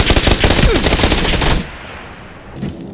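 Rapid automatic gunfire from a weapon in the video game PUBG (Battlegrounds): a loud, dense burst of shots for about a second and a half, then it cuts off into quiet game ambience.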